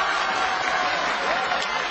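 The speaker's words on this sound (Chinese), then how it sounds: "来，我们掌声欢迎黄晓明。" A studio audience applauds to welcome actor Huang Xiaoming onto a television talk show stage, a dense, even wash of clapping that fills the short stretch without a break.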